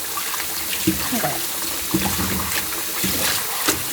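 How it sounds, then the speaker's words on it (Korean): Hot water drains from freshly boiled noodles through a colander in a home kitchen, a steady rushing trickle with a few brief splashes, heard beneath a voice. "채반에다가 뜨거운 물을 쫙 빼고요"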